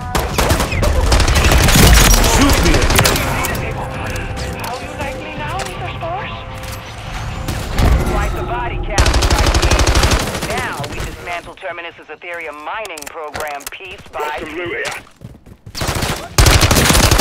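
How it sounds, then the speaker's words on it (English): Call of Duty gunfire rattles in dense, loud volleys across most of the stretch, with brief lulls and a final burst, while a voice talks over the shooting. "I'm taking fire."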